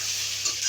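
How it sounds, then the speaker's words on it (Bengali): Vegetables with green chilli frying in a pan for a tilapia and eggplant curry, a brief, close, steady sizzle and hiss with a faint stir. "এবার একটু ভেজে নিই, সবজিটা ভেজে নিই।"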